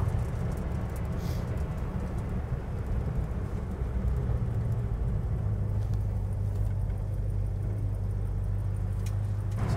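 A 1970 Plymouth Road Runner convertible drives steadily along a road, with a continuous low engine hum and broadband road noise heard from inside the cabin.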